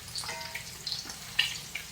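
Soft crackling sizzle of an egg frying in hot grease in a frying pan, with a few small pops and spatters, close and fairly quiet.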